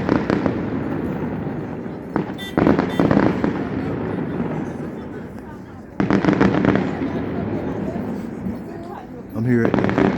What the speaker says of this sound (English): Mardi Gras Festival, fireworks display.